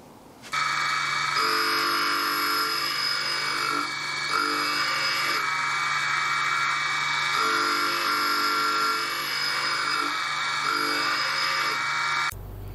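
A lathe tool bit being ground in a grinding jig, a steady high-pitched motorised whine with tonal bands that shift slightly as the bit is worked, running continuously for about twelve seconds before stopping abruptly.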